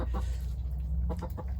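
Chickens cluck over a steady low background hum while pecking at expired food scraps, including cabbage and chicken salad; the clucks come in several short, close bursts.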